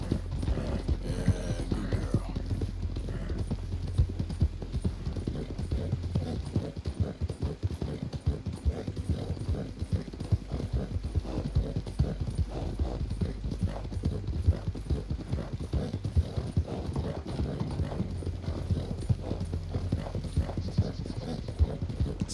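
Steady, rhythmic hoof clip-clop of a horse walking in Red Dead Redemption 2, continuous and fairly close, with faint low rumbling in the background.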